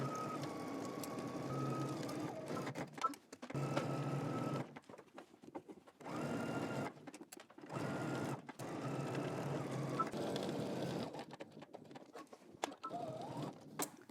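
A sewing machine runs a 5/8 inch seam with backstitching, stitching in bursts of steady whirring broken by short pauses, close and moderately loud.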